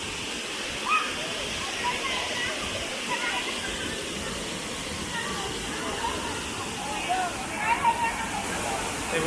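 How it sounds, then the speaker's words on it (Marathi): Savdav waterfall in Kankavli, Konkan, crowded with tourists, gives a constant broad rushing roar, with faint crowd chatter and voices mixed in. "सुंदर असा सावडा धबधबा"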